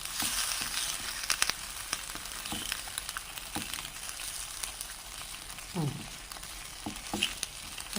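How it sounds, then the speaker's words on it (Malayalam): Two eggs frying in a pan, with a steady crackling sizzle of hot oil, scattered pops and a few scraping stirs, close and fairly quiet, with no voices. "രണ്ട് മുട്ട നമ്മളൊന്ന് പതുക്കെ ഒരു ഒരു സൈഡിലേക്ക് വെച്ചിട്ട് ഒന്ന് വറുത്തെടുക്കണം"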